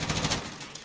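Video game gunfire rattles as a short burst of rapid shots, loud and punchy, lasting under a second.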